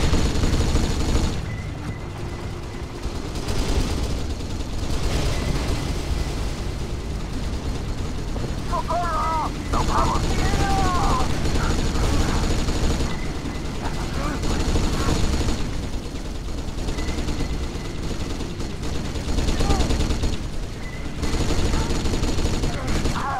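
Continuous gunfire fills a firefight in the video game Kane & Lynch: Dead Men, with dense overlapping rapid bursts that run loud and close for the whole stretch, occasionally broken by short pauses, while a voice talks over it.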